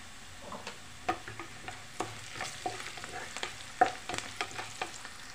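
Turmeric and kasuri methi frying in a pan for a cauliflower tomato curry, with a steady low sizzle and scattered clinks and scrapes of stirring throughout.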